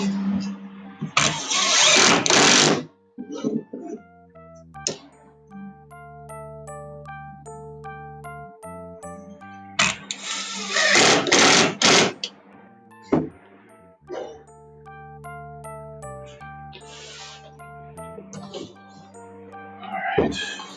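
Boards are screwed together. Two loud whirring bursts of a couple of seconds each, plus shorter ones, stand out over steady background music tones.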